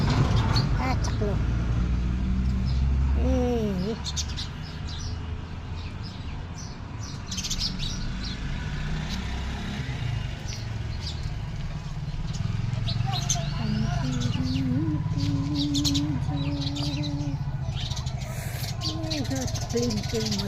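House sparrows chirping at a bird feeding spot, several short chirps scattered over steady background noise, with a person talking over most of it.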